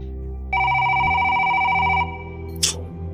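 A telephone rings once with a bright sustained electronic tone lasting about a second and a half, followed by a brief click as it is picked up.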